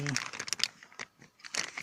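A plastic bag holding a spare Kia clutch actuator part crinkles in several short, close rustling bursts, with someone talking over it.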